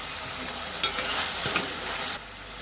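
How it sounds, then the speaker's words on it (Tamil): Onion and tomato sautéing in a pan for a drumstick and brinjal sambar: steady close sizzle with a few louder scraping stirs of a spoon, no voices. "தக்காளி நல்லா வதங்கிடுச்சு."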